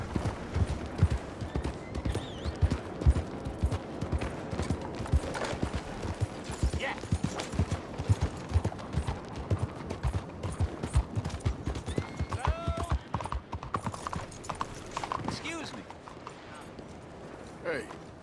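Steady clip-clopping horse hooves in the video game Red Dead Redemption 2 plod along at a walking pace, with voices talking now and then over ambient background sound.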